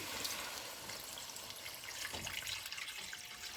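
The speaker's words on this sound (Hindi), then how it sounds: "अभी ये पानी डाल देंगे।" Water is poured into a pan of stir-fried chicken for a hot and sour chicken and vegetable soup, a steady soft rushing splash that runs throughout at low volume with no speech.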